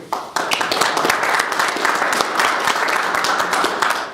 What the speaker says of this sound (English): I thought you were supposed to clap after you see what I've said.